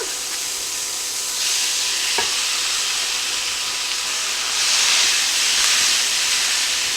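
Ground beef, about 1.5 pounds, browning in a pan for an enchilada casserole and being broken up with a meat masher: steady sizzling hiss, swelling louder twice, with faint scraping and stirring.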